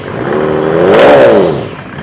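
A Mercedes OM606 diesel engine blips once from idle, its pitch climbing to a peak and falling back within about two seconds, close and loud.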